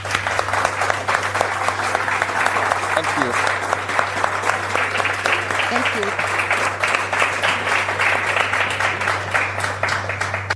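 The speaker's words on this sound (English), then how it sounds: "Let's give them a warm welcome with a big round of applause." An audience gives a warm welcome to two guests at a live event with dense, steady applause lasting throughout, while a voice offers thanks over it.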